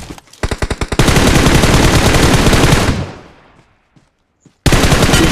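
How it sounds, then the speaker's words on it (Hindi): Automatic gunfire in the BGMI battle game: a few sharp separate shots, then a loud, dense sustained burst of rapid fire that fades into quiet and is followed by another abrupt loud burst, with no talking. "इतने में सामने से कोई फायरिंग देता है।"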